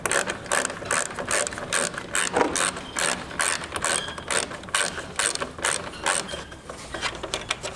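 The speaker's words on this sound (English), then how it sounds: "Just taking a couple of bolts off." A socket ratchet backing out 10mm bolts on a Ford Ranger front grille, rapid continuous clicking of the pawl in close, loud bursts with brief pauses between strokes, no talking.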